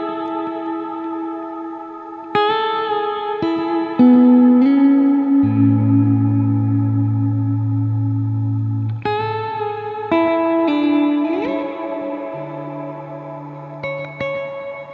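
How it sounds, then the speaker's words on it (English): An electric guitar rings through a huge hall reverb from a UA Golden Reverberator, sustained notes and chords blooming into long, washing tails that overlap and hang on between each new phrase. "I've got a huge reverb on the Golden Reverberator from UA Audio"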